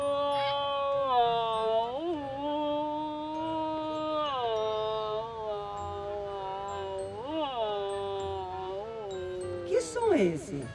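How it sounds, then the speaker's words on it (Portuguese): A whale sound effect played during a children's play: drawn-out tonal calls that glide up and down in repeated swoops, steady and fairly loud, ending in a short clatter. "É o barulho da baleia, é o som dela"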